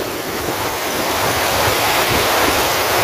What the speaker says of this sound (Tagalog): ang lakas ng hangin ngayon